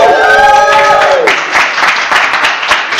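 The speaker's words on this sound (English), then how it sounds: "let's give a round of applause" A small group gathered at a hackerspace bursts into a round of clapping and cheering, a sharp whoop fading into scattered, close-up claps.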